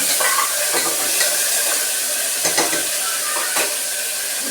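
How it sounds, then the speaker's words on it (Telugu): Tender tamarind leaves sizzle steadily in a hot frying pan while a spoon stirs them, with scraping strokes and crackling spatter over a continuous loud hiss, no voices. "చింత చిగురు వేసిన తర్వాత ఒకసారి మనం కలుపుకుందాం"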